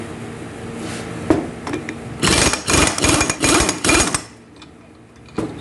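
An impact tool loosens the 32 mm nut on the transmission output flange of a Genesis DH with an A8LR1 automatic gearbox, firing several loud hammering bursts close up after a few lighter clanks, then stopping.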